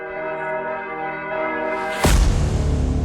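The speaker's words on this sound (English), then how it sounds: "The monastery bells cry out in terror." Monastery church bells ring with a sustained, resonant tone, then a sudden loud crash bursts in partway through and leaves a rough, noisy roar.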